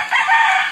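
A backyard chicken crows in a short, loud, continuous call, close by and with no voices.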